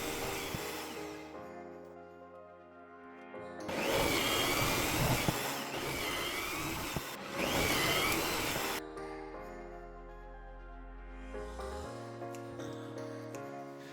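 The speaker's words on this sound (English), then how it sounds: "Now we are cutting dowels to neatly cover the drilling holes later." A power saw cuts wooden dowels for a cat scratching post, with a motor hum that swells into two loud bursts of cutting before winding down to a low fading whir.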